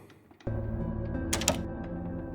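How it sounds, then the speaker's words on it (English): A door unlocks in the OneShot video game. A sudden mechanical clunk is followed by a steady hum, then a couple of sharp metallic clicks close up, with no voices. "Nico hears the sound of a door unlocking."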